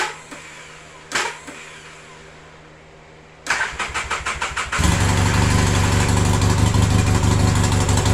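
A Polaris Sportsman 700 twin quad with a new starter cranks, giving a couple of short bursts, then a rapid stuttering churn before the engine catches and settles into a loud, steady run, close by with no talk.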